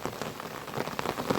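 Heavy monsoon rain pours down on farmland, a dense, steady patter of drops striking surfaces, close and continuous.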